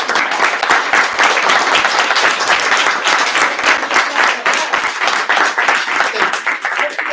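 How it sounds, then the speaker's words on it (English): An audience at a local district candidate forum gives a sustained round of applause, dense, even clapping filling the room, fairly loud, with no speech over it. "applause."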